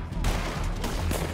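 Rapid video-game gunfire in a Western horseback bounty-hunting game, a loud burst of overlapping shots heard up close.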